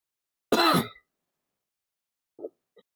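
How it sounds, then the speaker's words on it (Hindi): One sharp, close cough rings out, then after a pause come two small throat-clearing sounds, quieter and brief, with silence in between. "थोड़ी खांसी हो गई है।"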